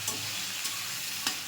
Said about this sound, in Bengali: এবার চিংড়িগুলো হালকা করে ভেজে নেব